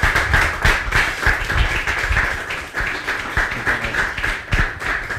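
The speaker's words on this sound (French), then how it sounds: "Allez, sous vos applaudissements." A studio audience claps to welcome a guest onto a French television show, with loud, dense applause and distinct individual hand claps that continue steadily throughout.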